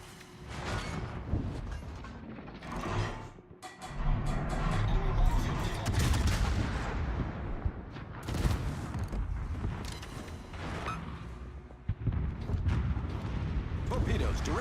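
Naval guns firing high-explosive shells in a warship battle video game, heavy repeated booming salvos and rumbling impacts throughout, loud and dense, with a voice talking over the gunfire at times.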